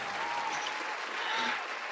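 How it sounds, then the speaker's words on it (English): A short burst of applause, steady clapping from a crowd, loud and close, with no talking. "Round of applause."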